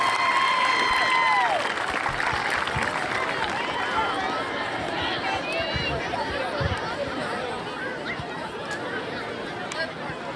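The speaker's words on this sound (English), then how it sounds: "So please give her a big round of applause" An event audience claps and cheers for a national anthem singer, the clapping dense and sustained under crowd chatter, with a brief whistle-like tone at the start and voices talking throughout.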